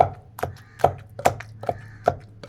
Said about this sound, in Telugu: ఇదిగోండి టమాటాలు దంచుతూ ఉంది